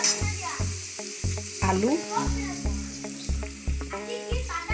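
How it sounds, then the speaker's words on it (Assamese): Onions fry in a pan for an Assamese-style cabbage paratha, sizzling steadily under a rhythmic series of stirring scrapes. Someone talks throughout. "আপোনালোকে অকমান ৰঙচুৱা হোৱাকে ফ্ৰাই কৰি ল'ব তো পিয়াজখিনি অকমান বাদামী কালাৰ হৈছে"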